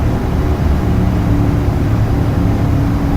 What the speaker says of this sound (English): You can can hear those engines coming down